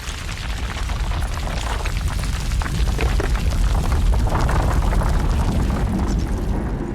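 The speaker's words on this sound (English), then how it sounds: "one rock fell, then another, and another." Loud, continuous rumbling crashes of rocks tumbling down onto a railway track, a dense roar of impacts and debris with no pauses.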